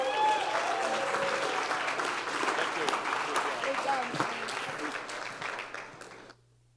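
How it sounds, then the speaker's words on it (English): A crowd at a tenth-anniversary benefit gives its guest a sustained round of applause, steady and fairly dense throughout, tapering off and cutting out near the end. "Can we get a round of applause for our guest,"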